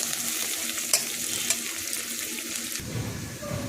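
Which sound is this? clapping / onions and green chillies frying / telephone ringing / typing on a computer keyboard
onions and green chillies frying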